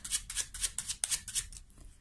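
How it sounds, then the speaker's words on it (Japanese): Tarot cards are shuffled by hand, producing a quick, rhythmic series of crisp papery riffles and flicks, close and steady with no speech. "もう少しシャッフルさせてって感じで。"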